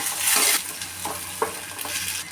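Finely chopped tomato with onion and ginger-garlic paste sautéing in a pan, a continuous close sizzle broken by scraping stirs of the spoon. No talking.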